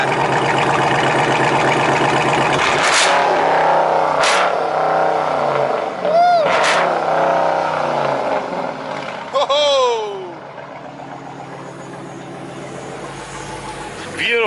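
Several cars at a private meet of head-turning American cars in North Carolina rev their engines close by, loud throttle blips rising and falling over a steady running rumble, with sharp bursts and one revving sweep near the end.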